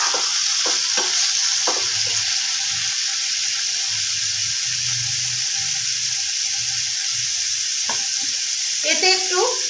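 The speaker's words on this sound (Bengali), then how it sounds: "তো চিকেনটা একটু আমি ভেজে নেব।" Chicken pieces dusted with a pinch of turmeric fry in hot oil in a pan for egg chicken fried rice, giving a steady close sizzle broken by scraping stirs and occasional clinks.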